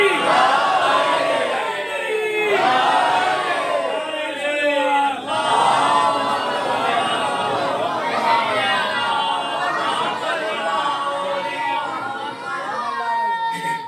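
A crowd at a religious majlis gathering shouts back in unison after a Nara-e-Haidari slogan, with loud, overlapping voices in repeated waves of chanting.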